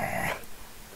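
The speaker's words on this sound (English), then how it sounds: "Low growl, malicious growl." A low, malicious growl from a creature in a werewolf video game, a brief rumbling snarl that fades within a second, heard alone.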